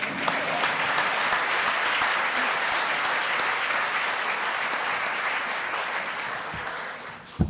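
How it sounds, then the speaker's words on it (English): Sustained audience applause at an LSE lecture event on progressive politics, a steady dense wash of many hands clapping for about seven seconds before tapering off at the end. "Applause, please."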